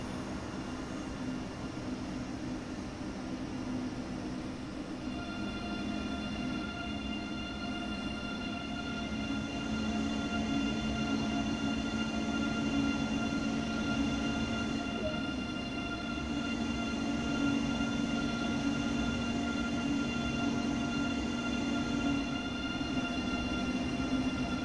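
A moving train on the München-Augsburg route in Train Sim World 2 rumbles steadily with a low rolling drone and sustained tonal whine layered above, continuous and fairly loud with no talk.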